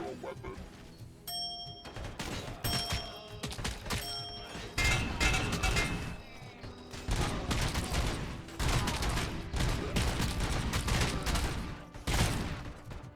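Gunfire rips through a RoboCop: Rogue City firefight against robots, with dense bursts of automatic shots, metallic impacts and chimes coming in loud, repeated volleys separated by brief lulls.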